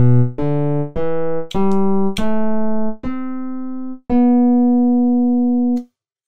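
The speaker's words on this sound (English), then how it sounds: "this already sounds somewhat like a piano, only because of the filtering that happens before" A synthesized acoustic piano patch built from filtered oscillators plays a short descending-then-rising run of seven single notes, each struck brightly and decaying, with the last note ringing longer before cutting off.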